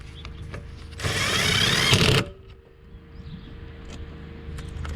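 A power driver runs screws into the carburetor of a Briggs 550EX engine on a Craftsman push lawnmower: one loud, steady whir lasting about a second, close by, set against quiet workshop background noise.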